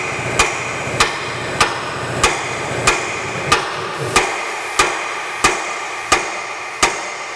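Hammer blows striking a rear wheel bearing part on a 2004 Ford Explorer, about a dozen sharp metallic taps at a steady, slightly slow rhythm, close and loud with nothing else in the background.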